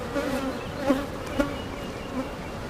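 Honeybees buzz steadily from an open hive during a mid-June inspection, a close, continuous drone with a few brief louder swells, with no talking.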